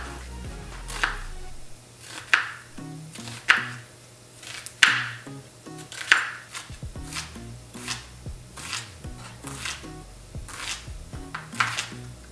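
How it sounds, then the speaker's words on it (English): A knife chops an onion steadily on a cutting board, about a dozen crisp, evenly paced strokes, close up, with faint background hum. "we're going to start chopping up half of an onion, or roughly 1 cup worth"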